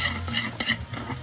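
Chili, onion and garlic stirred in a frying pan, a continuous sizzle with rhythmic scraping strokes of the utensil, close and steady without talking.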